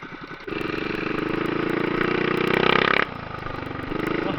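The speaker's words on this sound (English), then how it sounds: "Oh yeah, this bike is quick." A mini-bike engine revs hard and close, a steady buzzing drone that climbs in pitch, drops briefly near the end, then picks up again, with no talking.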